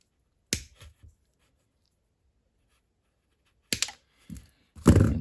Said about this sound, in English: So what I thought I would try to do is cut one of them off here.